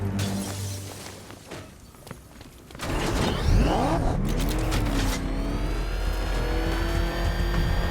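In Batman: Arkham Knight, the Batmobile revs hard and accelerates away with a loud, close engine roar, rising and falling pitch sweeps, and a brief crash of shattering debris before it drives on steadily.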